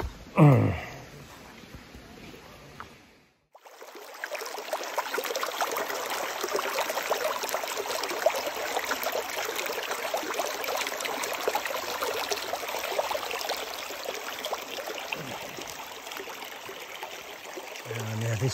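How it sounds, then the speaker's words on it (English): Steady rushing of a stream flowing nearby on the way up to a waterfall on Koh Lanta, a continuous bright wash of water that runs unbroken after a brief quieter moment at the start. "The sound of the water, heading up towards the waterfall."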